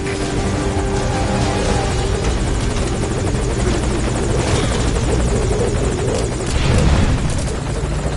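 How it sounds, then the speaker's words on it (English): Loud, close helicopter rotor thrum from Metal Gear Solid V: Ground Zeroes runs unbroken throughout, swelling slightly near the end. "chopper"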